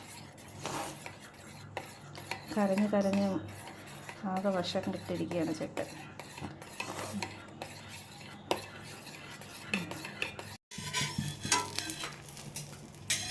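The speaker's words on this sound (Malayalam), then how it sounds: "ഇളക്കിക്കോ കുഞ്ഞ്." A spoon stirs beaten egg with salt in a bowl for an omelette. The scraping and clinking is close and repeated, under home-kitchen talk and a voice, and a brief gap comes near the end.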